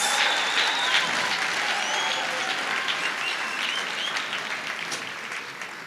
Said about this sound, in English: Let's give Lisa another round of applause.